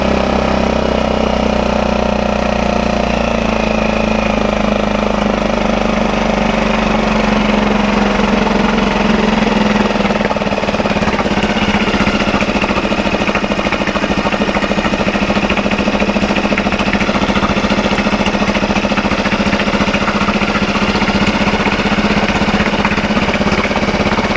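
A small dinghy outboard engine idles high, steady and continuous, a close, loud, even hum with a rough mechanical rattle and no voices.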